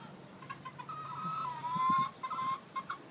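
Chickens cluck and make short, squawky calls close by, several bursts over a few seconds against quiet background.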